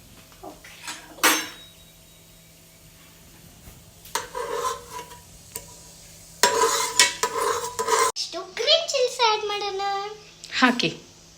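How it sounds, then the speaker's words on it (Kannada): Green chillies frying in hot oil in a pan for chicken biryani, with spatula scraping and stirring clatter in bursts while a child and an adult talk over the cooking. "ಗ್ರೀನ್ ಚಿಲ್ಲೀಸ್ ಅದೊಂದು ಸ್ವಲ್ಪ ಫ್ರೈ ಮಾಡಿ"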